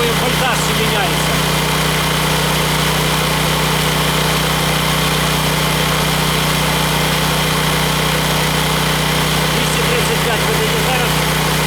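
A Heron 3.5 kW single-phase inverter petrol generator runs at idle with no load, a constant loud engine hum and buzz holding steady throughout.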